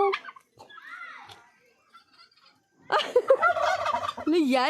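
A large chicken-like fowl calls loudly nearby in rapid, warbling gobbling bursts. Faint voices and softer sounds come before the calls.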